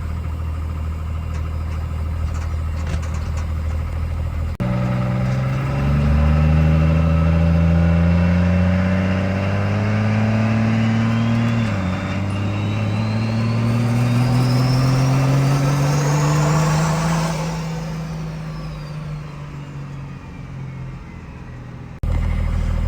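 A race car engine running up close, a loud continuous drone that rises in pitch as it revs through several climbs and then settles back toward idle before cutting off near the end.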